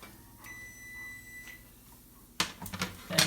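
An oven timer sounds a thin, high beeping tone twice in a quiet kitchen, followed by clattering and handling noises of cooking gear as the grilled cheese baconator comes out.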